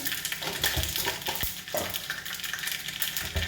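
Mustard seeds and fenugreek frying in hot oil for a bottle gourd curry make a dense, continuous crackling sizzle with small pops throughout, close and fairly loud with no talking.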